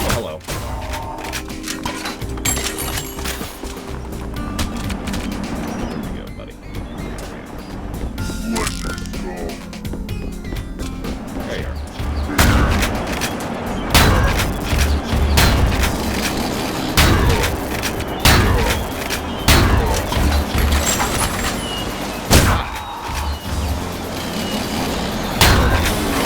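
Gunshots in the retro shooter Ion Fury fired for headshots: sharp, repeated bursts of shots with loud booms, spread through a busy game mix, and someone talks over the action throughout.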